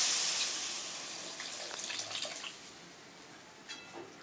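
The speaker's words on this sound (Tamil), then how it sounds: "இப்போ நம்ம புளி கரைச்சலையும் நம்ம இதில் சேர்த்துடலாம்" Tamarind water pours into a simmering village-style fish curry, starting with a close, loud hiss of liquid meeting the hot pan, then easing into softer sloshing, bubbling and a few late drips, with no voices.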